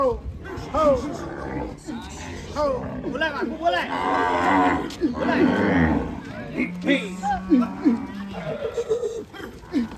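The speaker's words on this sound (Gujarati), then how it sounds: "આવા ગાયો જો, વાહ વાહ વાહ" Several Vadhiyari cows moo repeatedly nearby, long low calls overlapping one another, while people talk and exclaim over them.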